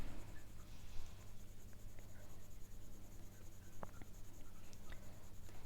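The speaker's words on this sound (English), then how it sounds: "You can see that softness of the 4B pencil there and how it sits so beautifully" A soft 4B pencil scratches faintly across Bristol board in light, quiet strokes over a steady low hum.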